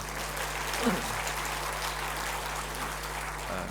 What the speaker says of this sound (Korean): 여러분 찬양을 하면 주님께 영광의 박수 올려드리십시다